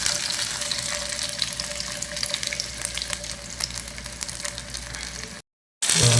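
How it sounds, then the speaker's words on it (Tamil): Marinated paal meen fish fries in hot oil, giving a continuous crackling sizzle close to the pan, briefly cut to silence just before the end. "ரொம்ப மீன் பொரிஞ்சிருக்கு."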